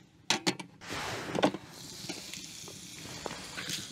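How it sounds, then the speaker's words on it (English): Faint crackling sizzle of food cooking on a small wood burner stove, with a few sharp clicks and knocks at the start, then soft steady frying hiss. "Oh, we're starting to get some sizzle on."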